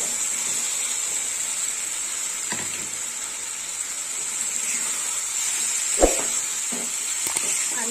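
Fried potato pieces go into spiced oil for rohu fish kalia, giving a steady, close bright sizzle throughout, with a few clinks of a spoon or pan over the frying.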